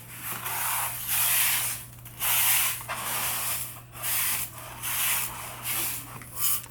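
Loose rhinestones are swept and scooped into a pile on a work surface, giving repeated gritty, hissing rubs in steady bursts of about a second, close and fairly loud, with no voices.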